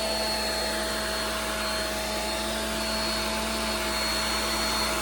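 A hair dryer blows hot air close to shrink wrap on a Mother's Day gift basket, making a loud, steady whooshing roar with a constant motor hum and no breaks.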